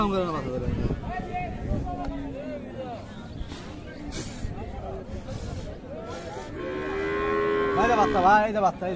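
At a busy cattle market selling Friesian cows with calves, several cattle moo loudly and repeatedly, with long drawn-out calls near and far over a steady hum of crowd chatter and people talking.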